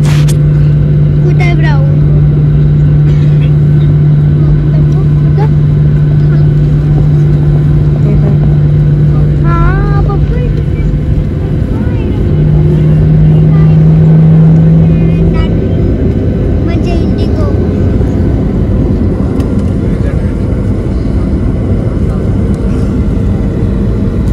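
An airplane that has just landed at Mumbai airport, heard from inside the cabin. A loud, steady engine drone and roar fills the whole stretch, with faint cabin chimes and voices underneath.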